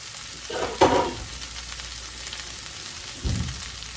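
Potatoes fry in a pan with a steady close sizzle, broken by two louder scraping bursts as they are stirred, one early and one near the end.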